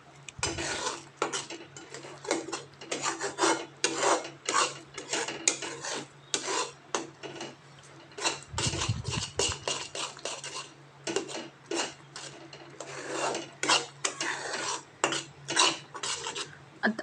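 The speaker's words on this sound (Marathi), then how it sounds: "आता परत व्यवस्थित हलवून घ्यायचं आहे" A khoa sweet mixture with crushed almonds is stirred in a pan on a gas stove, making repeated close scraping strokes of a spoon against the metal in an uneven rhythm, heard alone.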